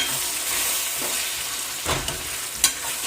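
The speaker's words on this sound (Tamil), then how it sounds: "வதங்கினது பிறகு எல்லாத்தையும் ஒன்று சேர்த்து மிக்ஸ் பண்ணுவோம் நல்லா மிக்ஸ் பண்ணுவேன்" Onions and garlic sizzle in a pan while a spoon stirs them, a steady hiss broken by a few scraping strokes and one sharp clack near the end, close up.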